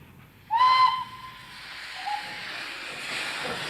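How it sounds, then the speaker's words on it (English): Small steam train on a short length of track at Park End near Lydney gives a sharp whistle blast followed by a lingering hiss of escaping steam and a softer second whistle note, with breathy steam noise continuing. "Their sturdy little train under steam on its own little bit of track at Park End near Lydney."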